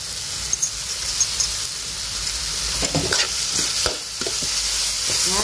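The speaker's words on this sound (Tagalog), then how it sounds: "durugin natin ang tauri" Fermented black beans (tausi) are crushed in a frying pan while bangus cooks, a steady sizzle broken by several close scraping, stirring and mashing strokes toward the end, with no talking.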